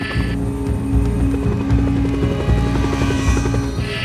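Helicopter flying over Alaskan mountains for heli-ski drop-offs and ridgeline work, a loud, close, steady rotor chop with whining engine tone throughout.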